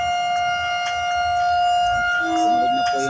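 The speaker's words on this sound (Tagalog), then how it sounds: "Nagtunog na yung sirena" A loud siren sounds outdoors in Lucena, Quezon, holding a steady wailing tone with a rising second pitch near the end, while people talk nearby.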